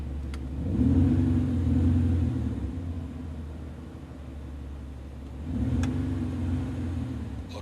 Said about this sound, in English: You can change the volume from loud